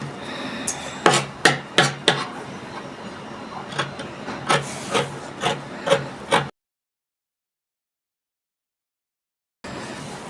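Scissors snip through kaftan gown fabric in a series of sharp, close cuts at an uneven rhythm, followed by a stretch of silence and then a faint return of sound.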